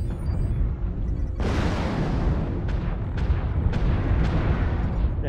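Rapid machine gun fire from a MechWarrior Online Centurion mech, a loud heavy burst kicking in and continuing as a dense rattle, with several sharp impacts punctuating it.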